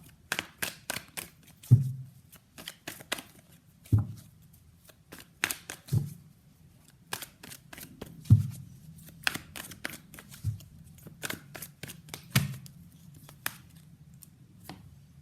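Tarot cards are shuffled by hand during a reading, close and crisp, with bursts of riffling flicks broken by periodic soft taps as the deck is squared.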